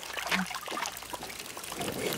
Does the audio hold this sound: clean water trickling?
yes